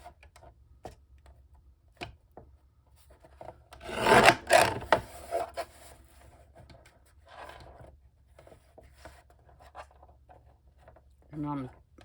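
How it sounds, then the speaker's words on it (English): A deckle edge paper trimmer rasps through a sheet of card in a loud burst of grinding strokes lasting about two seconds, preceded and followed by quieter handling clicks and a brief voice near the end. "I love that deckle edge trimmer, but it is so loud"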